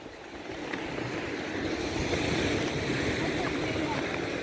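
Beach surf rolls in as a continuous wash of breaking waves, swelling after the first half second and staying loud and steady, mixed with wind buffeting the microphone.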